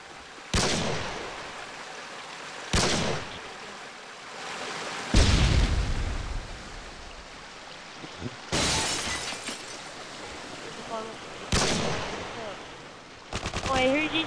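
Sniper gunfire in the Call of Duty video game: about six loud, sharp cracks, each followed by a short echoing tail, spaced a couple of seconds apart with quieter game noise between them.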